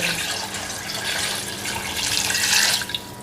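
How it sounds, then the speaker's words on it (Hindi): Water poured from a jug into a cooking pot while making Sindhi beef yakhni pulao, a steady rushing pour that swells toward the end before tapering off, close and alone. "ये 1 जग मैंने पानी डाला है"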